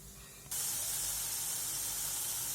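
Crushed tomato, ginger and chilli hit hot oil with cumin and asafoetida, bursting into a sudden loud sizzle after a quiet half-second, then a steady, close hiss that continues without letup.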